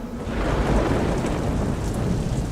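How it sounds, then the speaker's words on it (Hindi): Steady monsoon rain pours over Mumbai, a dense, continuous wash of drops hitting surfaces with a deep rumbling undertone, close and loud with no voices. "मुंबई की बारिश कितनी मस्त है ना दी।"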